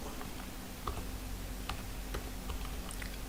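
Someone types on a computer keyboard while entering a font in Excel: sparse, faint, irregular key clicks over a steady low hum, with no speech.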